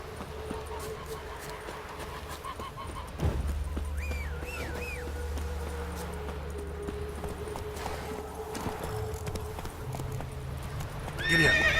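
A horse in the video game Witcher 3 clip-clops at a steady pace, and partway through a loud neigh rises clearly above the hoofbeats, with a faint music bed and brief other game sounds in the background.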